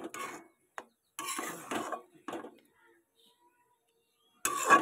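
Soybean chunks drop into a metal pan and get stirred, with several short scraping and clattering bursts separated by pauses, close and moderately loud.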